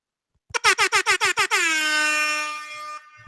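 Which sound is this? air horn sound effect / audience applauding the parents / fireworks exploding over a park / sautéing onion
air horn sound effect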